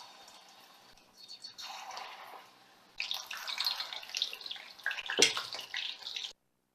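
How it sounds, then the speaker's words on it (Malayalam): Marinated, batter-dipped fish for an Apollo fish fry goes into hot oil, and a hiss builds into loud, crackling sizzling bubbles, with one sharp burst as a piece drops in, before stopping suddenly. "ഇനി ഇതിലോട്ട് മാരിനേറ്റ് ചെയ്ത് വെച്ചിട്ടുള്ള ഫിഷ് ഫ്രൈ ചെയ്തെടുക്കാം."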